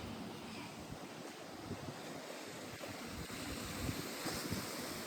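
Sea waves washing ashore at Uran beach in Navi Mumbai with boats nearby, a continuous soft surf rush mixed with gusty wind buffeting the microphone, fairly faint and distant, without speech.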